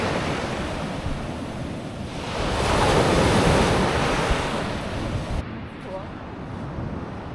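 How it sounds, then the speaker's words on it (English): Heavy ocean swell rolls in and surf breaks on a Baja beach in a steady broadband roar that swells and eases, with wind buffeting the microphone. "the swell is still pretty significant coming in"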